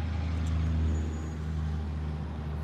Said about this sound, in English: And there goes a big truck.